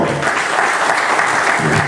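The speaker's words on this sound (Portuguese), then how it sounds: "ao qual eu peço uma salva de palmas" A brief burst of dense, steady applause from a large crowd at a trade union rally in Paraná, Brazil, loud and continuous.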